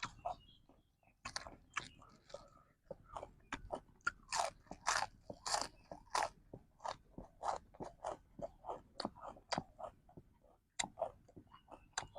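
Crispy pork rind (khaep mu) being bitten and chewed close up, a steady run of loud, sharp crunches in quick irregular rhythm, with brief pauses between bites, eaten alongside som tam and grilled tilapia.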